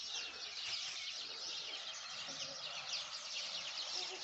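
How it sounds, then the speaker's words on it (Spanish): Small birds chirp steadily in the background, a dense high twittering over faint outdoor ambience with occasional low murmurs, in a village in Hita, Spain. "Y los pajaritos, si los escucháis."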